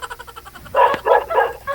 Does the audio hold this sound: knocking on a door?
no